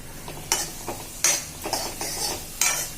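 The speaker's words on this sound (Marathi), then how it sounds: "गॅस थोडा कमी जास्त कमी जास्त करूनच कांदा परतून घ्यायचा" Onion being stirred and sautéed in a pan over adjustable gas heat, with a little chili powder, while making a yogurt pithla; a steady sizzle with several sharp scraping stir strokes, close and fairly loud, no talking.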